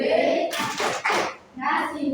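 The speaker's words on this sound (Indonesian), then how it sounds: "Tepuk tangan untuk kelompoknya Mas Yuda." Group of people clapping together in a classroom-style performance session, a few bursts of hand claps mixed with children's voices and chatter, fairly close.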